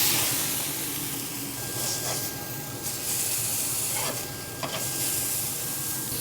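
Burger patties searing hard on a hot barbecue pit grill for smoked bacon cheeseburgers, a steady broad sizzle and hiss with a few brief louder spurts, close and continuous with no talking.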